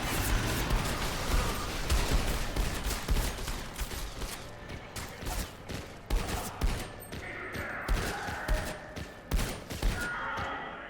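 Rapid pistol gunfire in the SiN video game, dense overlapping shots and loud cracks crowding together, with clanking mechanical sounds toward the end.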